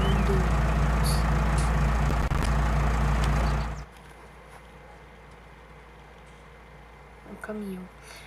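A heavy truck in Farming Simulator 19 rumbles loudly with a deep engine drone, then cuts off abruptly about halfway through, leaving near quiet and a brief hiss of air brakes.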